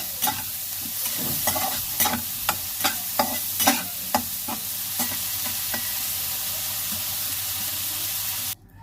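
Prawns seasoned with turmeric and salt sizzle steadily in a pan as a utensil scrapes through them in a series of separate stirring strokes. The sizzle cuts off abruptly at the end.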